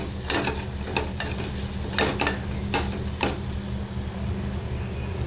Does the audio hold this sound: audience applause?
no